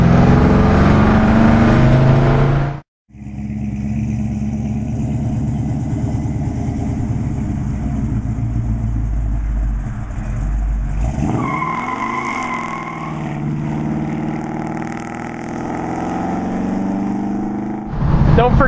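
A 1969 Dodge Super Bee muscle car running, its engine a loud, close, low rumble that drops out briefly before resuming and steadily changing pitch as it drives.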